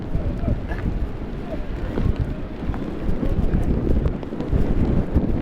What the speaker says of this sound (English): It's getting a little windy out now.